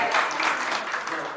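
An audience claps at a planning commission meeting, a steady wash of applause filling the room for a moment.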